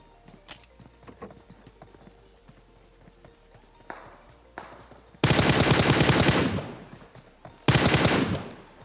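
M4 assault rifle fire in a battle-royale shooter game, heard as two loud sustained automatic bursts, the first about two and a half seconds long and the second shorter, following quieter footsteps and scattered ambient game sounds.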